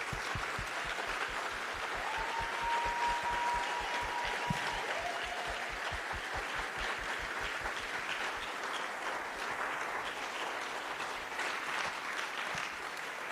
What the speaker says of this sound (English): let's give her a big round of applause wherever she is